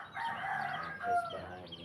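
A rooster crows close by at a garden feeding time, a loud strained call with chickens clucking around it and a voice faintly underneath.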